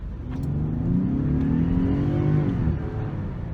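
A Ford Explorer Platinum PHEV of over 450 horsepower accelerating hard, its engine note climbing steadily and staying loud and close throughout, with no talk.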